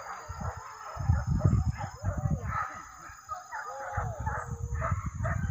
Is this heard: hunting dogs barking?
yes